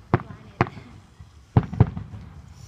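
Backyard fireworks going off in a string of four sharp cracking pops, two early and two close together later, loud and near, with faint voices murmuring in the background.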